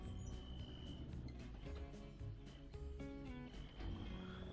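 A tractor engine in Farming Simulator 25 gives a loud, continuous drone with a whining turbo pitch that rises and falls, rumbling low beneath shifting mechanical tones.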